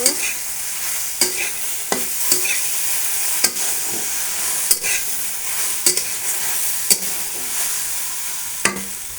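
Okra stirred in a pan for a steamed okra dish, with a steady frying sizzle broken by sharp spoon-scrape clacks every second or so, close and fairly loud.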